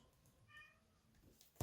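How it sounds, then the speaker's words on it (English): Pet cats meow faintly in a quiet room: one soft, short meow and a few weaker sounds, with no voices, before a sudden loud knock at the end. "those are my cats, if you can hear them meowing"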